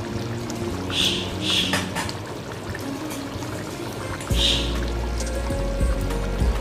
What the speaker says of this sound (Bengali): এবার একটু ঘি দেব।